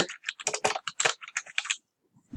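Typing on a computer keyboard, a quick close burst of about a dozen key presses for roughly two seconds, then a brief pause and one last tap.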